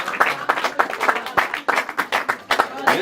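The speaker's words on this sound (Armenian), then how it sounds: "Բարձր ծափերը" Loud, close applause at a family celebration, a small group clapping in distinct bursts with an uneven rhythm, voices mixed in among the claps.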